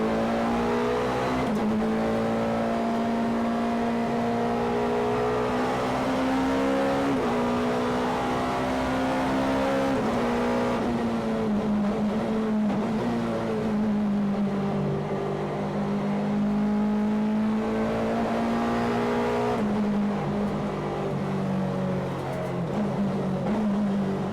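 A BMW 318i Super Touring race car engine howls loud and close throughout, a steady high-revving note that rises and drops sharply with several quick gear changes.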